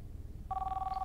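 An in-game telephone in Contagion VR: Outbreak starts ringing after a low rumble, a steady electronic bell tone holding through to the end, fairly quiet.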